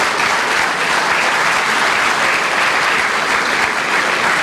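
A business audience at a Macedonian chamber of commerce event bursts into dense, sustained applause, loud and even throughout with no pauses and no voices on top.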